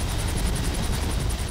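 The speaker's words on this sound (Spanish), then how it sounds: "Ese helicóptero se acercaba cada vez más a Ali." Helicopter heard as a steady, loud rotor drone with rapid blade chop throughout, no other sounds.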